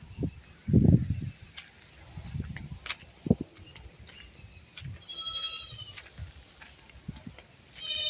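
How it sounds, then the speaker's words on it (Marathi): A goat and a young kid bleat on a village farm, with a few short cries spread out between quieter rustling and distant animal calls and no talk. "शेळीचा आवाज, शेळीच्या पिल्लाचा आवाज"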